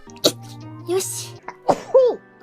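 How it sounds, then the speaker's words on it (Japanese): A hololive VTuber sneezes during a livestream, a sharp burst near the start followed by short vocal sounds and another sneeze-like burst, all close and fairly loud. "くしゃみ出た。"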